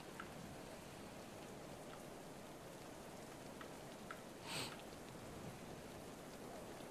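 Steady rain falling in the medieval colony-building game Going Medieval, a continuous soft hiss of rainfall with faint scattered drips, quiet and unbroken, with no voices.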